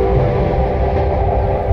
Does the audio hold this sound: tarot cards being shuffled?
no